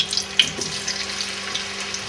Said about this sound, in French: Alors maintenant j'envoie dans ma poêle